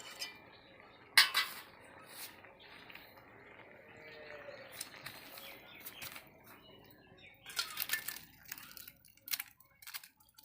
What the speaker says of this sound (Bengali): হয়ে গেছে, এবার আমি নামিয়ে নেব।